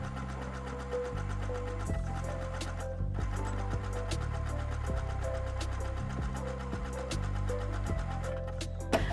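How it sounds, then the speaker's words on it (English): A sewing machine runs zigzag stitches in reverse back over a repair on thrifted clothing, its fast steady whirring motor coming in close, loud bursts that stop and restart between short sections. "I'm just going backwards right over it with the zigzag because I wanna do small sections"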